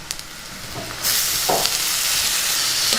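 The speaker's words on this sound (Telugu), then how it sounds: "ఇప్పుడు టమాటా ముక్కలు వేసేసుకుందాం" Tomato pieces tossed into a pan of frying onions set off a sudden loud sizzle that jumps up midway and keeps hissing steadily, close by, without speech.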